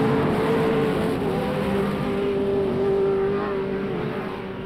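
Off-road race trucks at Bark River, their engines roaring continuously at mid distance with a steady droning pitch, one truck's note sustained across the whole stretch.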